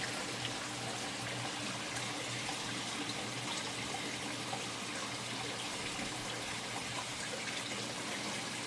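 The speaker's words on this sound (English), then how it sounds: "especially you put that in the water, flowing water." Water flows steadily and continuously where grass cuttings sit rooting in it, a soft even gush with no breaks and no voices.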